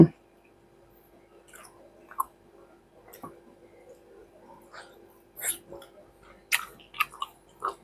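Someone eats stir-fried sweet leaf vegetable cooked with oyster sauce, with soft, close chewing and a few sharper bites and clicks scattered irregularly over a quiet background.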